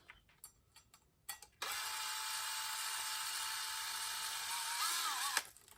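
A power drill driving screws into an industrial ceiling light fixture: a few light clicks, then a loud, steady high whir that runs for several seconds before stopping abruptly.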